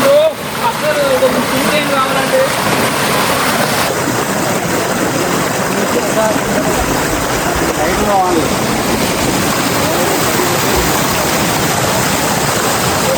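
A waterfall in hilly, pothole-strewn country about 30 km from Nandyal roars in a steady, loud broadband wash throughout, with voices talking over it.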